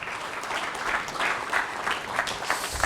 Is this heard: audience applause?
yes